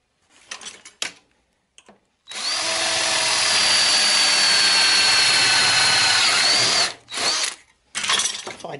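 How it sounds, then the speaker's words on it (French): A power drill bores holes at the corner of a workbench, with a piece of wood as support, for the screws of a louvered car hood hinge. After a few short knocks comes one loud, sustained whirring run of about five seconds, followed by brief handling bursts. "là il y a le passage des vis de volet de capot. Je me mets à l'angle de l'établi avec un bout de bois comme ça. Et voilà, j'en ai deux comme ça à percer."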